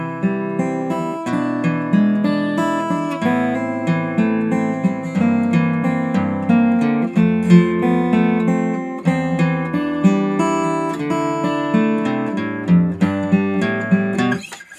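Guitar playing the gospel song Rain Down in strict, even eighth-note rhythm, a steady stream of plucked notes and chords running continuously for about fifteen seconds with no voices.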